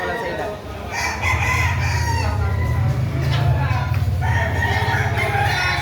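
A rooster crows at a busy livestock market, its call rising over steady crowd bustle and low background din, with people talking nearby.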